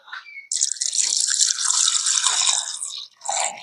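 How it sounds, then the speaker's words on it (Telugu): A kitchen tap pours a steady stream of water for washing raw chicken, a close, even splash that runs for about two and a half seconds, breaks off briefly, then returns. "దీన్ని నీళ్లు పోసి 2 సార్లు కడిగేసుకొని"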